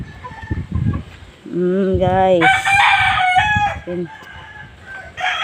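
Roosters and hens in a large flock crow and cluck nearby, with a couple of loud drawn-out crows in the middle, while someone speaks intermittently over them.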